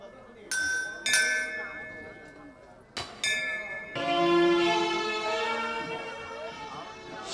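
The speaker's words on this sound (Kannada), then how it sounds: "ಗಂಟೆಯ ಶಬ್ದವಾಯಿತು." A bell is struck several times during a Kannada stage drama performance in Bidadi. Bright metallic strikes come in uneven bursts, and their ringing overtones hang and slowly fade between hits.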